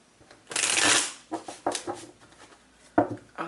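A deck of tarot cards being shuffled up close, a loud riffling burst followed by several shorter shuffles and taps, with no talking.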